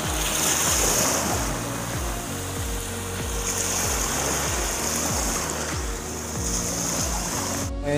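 Sea waves wash continuously along the shore at a beach resort, with steady surf and wind noise buffeting the microphone.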